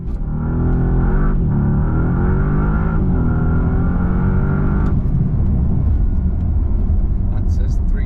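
A 2025 Bentley Continental GT Speed accelerating uphill from 0 to 62 mph, its engine note rising through the gears in a loud, continuous surge heard from the cabin, with brief shift breaks.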